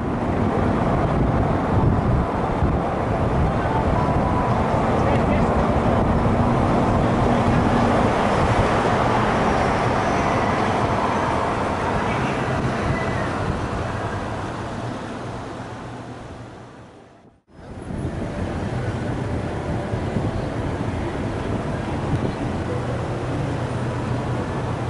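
Steady broadband road and wind rush from a car cruising the Las Vegas Strip at night past City Center, loud and continuous, with a brief dropout near the end before the same drone resumes.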